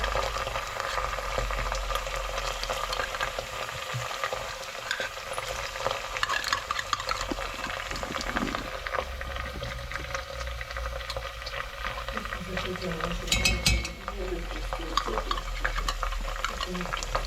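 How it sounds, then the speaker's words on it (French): A spoon works tomato paste into a pot of food, a steady scraping stir over soft sizzling that carries on for the whole stretch, close and fairly loud, with no talking. "Et après, avec la cuillère, tu délayes bien."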